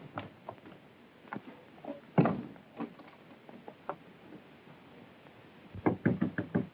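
Knocking on a door sounds as sharp, close raps in uneven bursts, with a loud thump partway through and a rapid volley of knocks at the end.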